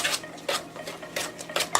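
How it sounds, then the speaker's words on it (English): Oatmeal cookie dough being mixed in a bowl at home, several quick scraping and clinking strokes of a utensil against the bowl, close and bursty, with no talking. "We're just going to mix this until this gets really mixed together."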